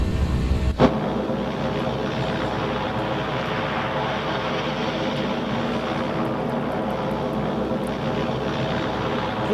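Twin propeller engines of a Black Square Baron in the flight simulator MSFS2024, droning loudly and steadily throughout after a brief sharp transient near the start, with no talk.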